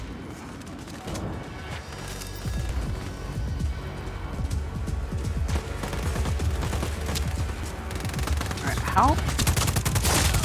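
Rapid, dense gunfire rattles without a break in the video game Just Cause 4 as people shoot at close range, layered with thuds and impacts while someone briefly speaks.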